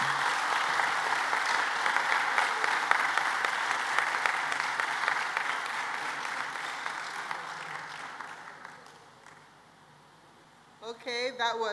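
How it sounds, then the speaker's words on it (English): Sustained crowd applause fills a graduation ceremony at a Seventh-day Adventist secondary school in Barbados for the class of 2020, steady for about eight seconds before tapering off, then a speaker's voice returns. "Let's have another round of applause for him."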